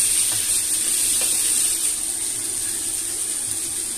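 Macaroni pasta frying in a pan, heard as a steady, close sizzle that holds level throughout with no talking over it.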